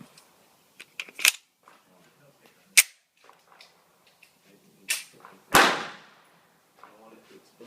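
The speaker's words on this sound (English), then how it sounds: "Now let's try the Glock 19." A Glock 19 9mm pistol fired at a shooting range: several sharp, loud cracks spaced irregularly, the last with a longer echoing tail, with faint background sounds between shots.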